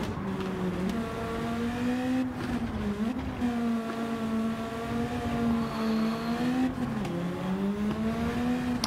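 A race car in Gran Turismo 7 drives on a road course, its engine droning steadily with rising and falling pitch through gear changes and corners, continuous and close.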